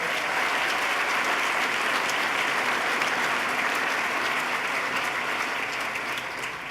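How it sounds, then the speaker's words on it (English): A large audience at a 2014 State of the State address applauds, a dense, steady burst of clapping that stays loud and slightly eases near the close. "Let's give him a round of applause"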